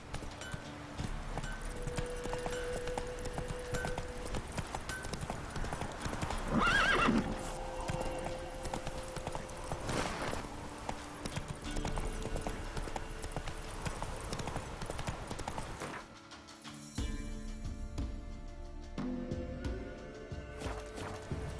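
Hooves clop in a quick, steady gallop as the horse Roach runs in The Witcher 3. A loud whinny comes partway through, and game music and ambience play underneath before the scene quiets near the end.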